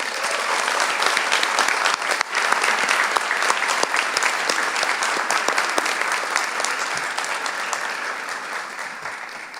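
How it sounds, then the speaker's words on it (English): Graduation ceremony audience in a theater gives a long, steady round of applause, dense clapping holding strong throughout and easing slightly toward the end, with no speech over it. "Let's give them a round of applause"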